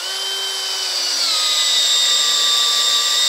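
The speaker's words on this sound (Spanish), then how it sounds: "el taladro de 18 volts para que vean la diferencia" An 18-volt cordless drill bores into wood with a loud, steady high-pitched whine that drops slightly in pitch partway through as the bit bites deeper, continuous and close throughout.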